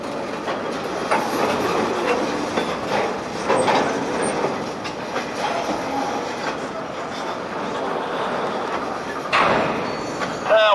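Maryland Midland freight train UBHF rolling past outdoors amid wildfire smoke, a steady rumbling of rail cars with clattering wheels and occasional metallic squeals, moderately close and continuous throughout.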